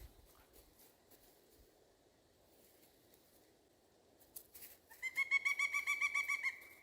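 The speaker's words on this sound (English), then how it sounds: "it's a pileated woodpecker, that one." A pileated woodpecker calls in woodland on a hike, a quick, loud run of repeated ringing notes rising out of quiet forest ambience near the end.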